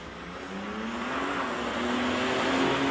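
A 660 drag race car launches off the line at South Coast Raceway, its engine note climbing steadily in pitch and loudness as it pulls away, heard from a distance.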